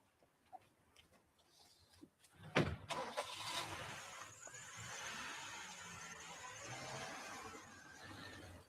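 A car engine cranks and catches after a few quiet clicks and knocks, then revs and settles into a steady running drone as the car pulls away, moderately distant.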